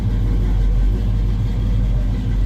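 A 1969 Camaro with a 327 engine rumbles steadily and loudly up close at an outdoor car show, its deep throaty exhaust note holding a continuous rev with slight fluctuations.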